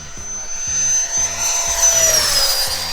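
A Freewing T-33 Luftwaffe model jet with an 80mm electric ducted fan makes a full-power low pass, its loud, high whine sweeping past and dropping in pitch over a steady rhythmic low pulsing.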